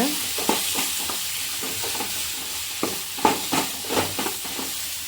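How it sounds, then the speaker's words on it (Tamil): Spoon stirring chili powder through a pan of fish fry gravy, with a steady low sizzle and a series of scraping strokes at an uneven rhythm, close and moderately loud with no talking. "இப்போது இதில் கொஞ்சோடு மிளகா பொடியை போட்டுக்கலாம் நல்லா கிண்டி விட்டுக்கோங்க"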